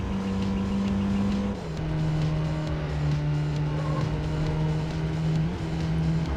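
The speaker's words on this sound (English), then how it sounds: "Mark DeVellis forced a new sound system to be added to World just because the LFA had too much of a distinctive sound" Lexus LFA engine in a Need for Speed game, a steady high engine drone that steps down in pitch at each gear change, holding loud and continuous throughout.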